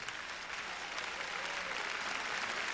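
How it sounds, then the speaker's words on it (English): A pageant audience in a large hall gives a sustained round of applause, dense even clapping from many hands heard at a distance and holding steady throughout. "For that, they deserve a big round of applause."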